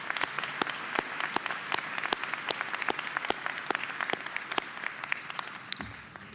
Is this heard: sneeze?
no